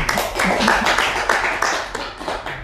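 A small group claps hands in a short burst of applause during a podcast about football players, the clapping close and lively for a couple of seconds before fading.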